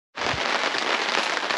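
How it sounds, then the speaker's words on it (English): Heavy, non-stop rain pours down at a campsite, starting abruptly and then holding a loud, dense, continuous wash of drops with no pauses. "Well, it has just non-stop rain."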